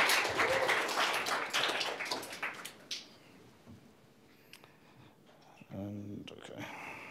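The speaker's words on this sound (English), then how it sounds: "Can we get a big round of applause for Aaron?" Children and adults clapping for a student at a coding event, a loud burst of applause that fades after about three seconds, followed by quieter talk and a brief low voice near the end.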